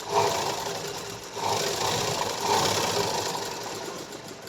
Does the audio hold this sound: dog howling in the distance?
no